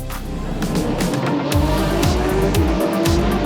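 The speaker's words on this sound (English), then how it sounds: "The lights go green, and Basch in the AMG stays ahead of the field." GT3 race cars, a Mercedes-AMG leading a pack of Porsches, start a race at the Jerez circuit with loud, close engines roaring and shifting up through repeated rising revs in a dense field.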